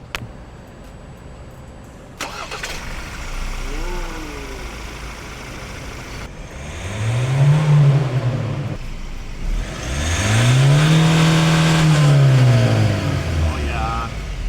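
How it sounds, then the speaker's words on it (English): A 2022 Ford Ranger Raptor X with a bi-turbo engine starts up after a click, then settles to an idle and rises through two strong revs, heard up close and fairly loud. "This is the start of the Raptor."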